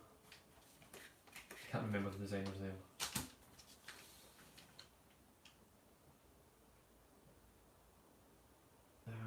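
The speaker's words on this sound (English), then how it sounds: "why does the paper sound so fat?" Crisp crackling and soft crinkles of thin origami paper being folded, in short bursts up close, with a few sharper taps and quieter handling toward the end.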